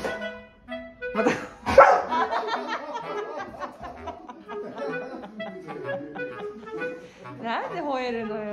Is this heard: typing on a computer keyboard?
no